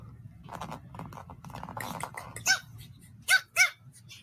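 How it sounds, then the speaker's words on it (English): A recording of a dog crying is played back through a subwoofer, giving a series of whimpering, yelping cries that build into louder howls near the end, with a low rumbling bed underneath. "Because this is what the dog sounds like."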